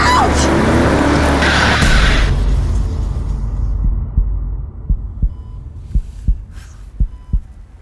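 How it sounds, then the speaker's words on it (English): A car comes up a residential street with a loud roaring rush and a brief tire screech, then fades to a low idle hum broken by a series of dull, evenly spaced thumps. "Luke, car!"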